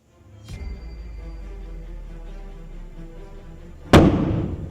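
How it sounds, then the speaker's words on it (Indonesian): A balloon filled with oxyhydrogen gas explodes in one sharp, loud bang with a brief crackling tail. Before it, a small pop is followed by a low, steady rumble. "a relatively mild explosion, as the hydrogen reacts with oxygen in the atmosphere"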